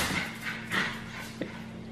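A playful dog pants and huffs close by in a home, with a few soft yips and brief rustles over a steady indoor hum.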